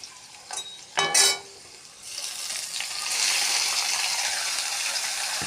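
Potatoes fry in hot oil with turmeric and chopped spices. A few clinks of stirring come at first, then a soft, steady sizzle and hiss builds and continues to the end.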